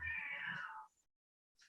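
A house cat lets out a clear, fairly loud meow lasting just under a second, followed by a short pause and a faint second call near the end.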